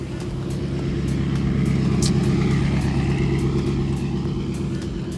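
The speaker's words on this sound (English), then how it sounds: "There's cars coming and there's a bike." Steady traffic rumble as cars pass nearby, an engine note rising and falling like a motorbike going by, with no talking.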